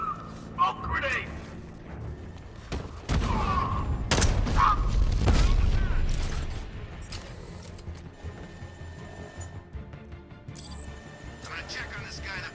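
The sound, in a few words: smoke grenade going off in the video game Batman: Arkham Knight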